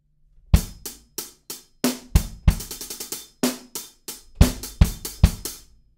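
A drum kit plays the second bar of a beat, keeping the triplets but dropping the final sixteenth note on the snare: crisp, close kick, snare and cymbal hits in a steady syncopated groove with no voices.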